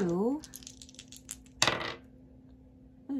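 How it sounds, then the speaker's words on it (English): Dice clatter and skitter across a hard surface in one bright burst of rattling clicks that quickly fades out, followed by a quiet pause, with a steady faint tone underneath. "All right, roll the dice."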